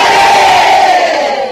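A loud crowd at a Liberty Unification Party political rally in Seoul shouts "manse" in unison, a sustained massed cheer that fills the moment and tapers slightly at the end.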